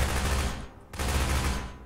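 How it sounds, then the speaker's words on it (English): Rapid bursts of gunfire in Garry's Mod, loud and dense, with a short dip before another sustained volley of shots rolls on. "I could hear gunshots"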